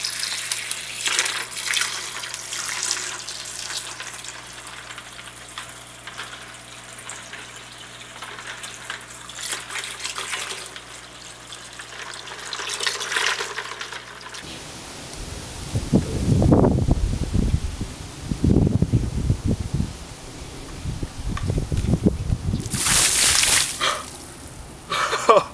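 Ice mixed with tank water is tipped from a bucket during an ALS Ice Bucket Challenge, a loud splashing gush breaking in after a quieter stretch, then dripping and scattered splashes as it runs off.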